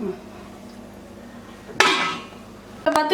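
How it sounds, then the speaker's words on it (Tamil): Two sharp metallic clanks from a lid set down on a pot of water for chicken biryani, the first louder and ringing briefly, the second shorter, over quiet room hum. "மூடி வச்சு தண்ணி வச்சிட்டு வேணா கொதிக்க வைக்கணும்"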